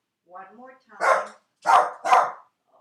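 A dog barks indoors during a home stretching workout, giving a couple of short whining yelps followed by three loud, close barks, with no talking.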